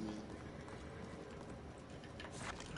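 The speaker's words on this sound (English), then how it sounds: "Hey, a horse." A horse gallops in the Realm Royale video game, its hoofbeats a steady, fairly quiet clatter running under game noise and murmuring voices.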